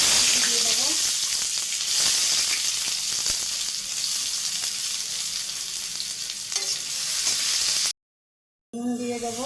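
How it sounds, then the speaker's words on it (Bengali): Whole cinnamon and cloves fry in hot mustard oil in a kadai, a loud continuous close sizzle with occasional stirring clatter, cutting out briefly to silence before the crackle returns. "সর্ষের তেল দেবো কড়াইতে। তেল গরম হয়ে গেছে, গোটা গরম মশলা দিয়ে দেবো।"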